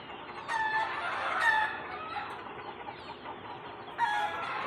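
Chickens clucking and a rooster crowing on a poultry farm, a steady busy flock chorus with a few louder crows rising above it, fairly close and continuous throughout.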